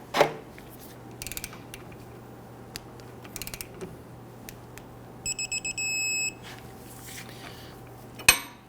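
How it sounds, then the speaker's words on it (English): A torque wrench tightens the lower clevis fork bolt to the lower control arm at 125 foot-pounds on a 2011-2023 Dodge Charger front suspension. Short clusters of ratchet clicks come first, then a steady electronic beep, then a sharp metallic clank. "let's go ahead and torque down our lower clevis fork bolt to the lower control arm to 125 foot-pounds"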